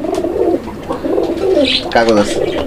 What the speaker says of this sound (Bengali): আমরা এই মুহূর্তে দেখতে পাচ্ছি এখানে আরো এক জোড়া কবুতর